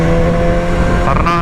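A motorcycle with a standard exhaust revs loudly and steadily for a moment, its tone rising slightly near the end.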